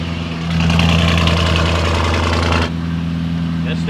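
Lamborghini Urus V8 tuned to 800 hp with downpipes and a stage 2+ transmission tune, idling loudly right after its first startup: a deep steady rumble that swells after half a second and eases slightly near the end.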